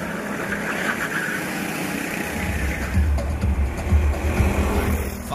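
Racing karts in a 6-hour endurance race, heard as a buzzing engine drone with rumble and wind noise that swells unevenly as karts pass nearby, moderately loud, with no talking.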